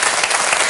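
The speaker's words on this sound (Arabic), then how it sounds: "تصفيق" A studio audience at a Tunisian TV show breaks into a brief burst of dense, loud clapping with no voices over it.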